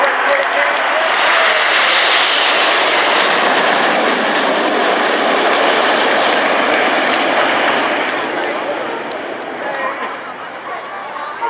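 A Dassault Rafale C fighter jet flies at an airshow with a loud, sustained roar that swells and then slowly fades as it passes. Crowd noise and an announcer's voice run faintly beneath it.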